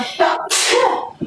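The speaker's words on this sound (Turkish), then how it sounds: "bir kadın hapşırdı galiba" A woman sneezes: a short breathy intake followed by a sharp, loud burst of sneeze, with a faint sound at the end.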